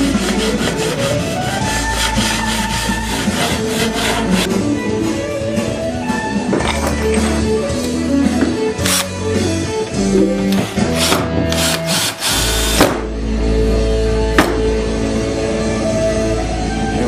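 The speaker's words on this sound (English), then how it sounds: "coarse diamond leveling file with this fine on it" A coarse diamond leveling file rubs back and forth across steel guitar frets during a refret, giving close, dense rasping strokes with sharp scrapes and knocks scattered through.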